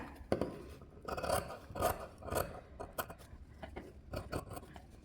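Scissors cut fabric along a neckline in a series of close, crisp snips and rasping slides, irregularly spaced, quiet and alone.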